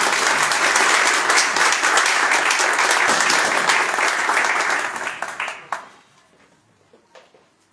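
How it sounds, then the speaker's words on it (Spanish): Church congregation applauding to welcome a guest speaker, a loud sustained burst of clapping that tapers off into scattered last claps. "Vamos a dar un aplauso."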